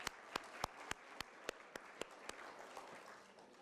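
Audience applause for Sally Spencer of the Derry Public Library at a Living Treasures event in Derry, NH: a modest crowd claps steadily, with a few sharp individual claps standing out, at moderate distance, fading slightly toward the end.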